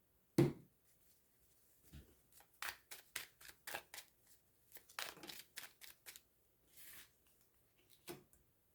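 Tarot cards shuffled and drawn by hand in quiet surroundings: a sharp slap, then a run of crisp riffling bursts and flicks in quick succession, followed by a pause, one more riffle and a final card snap.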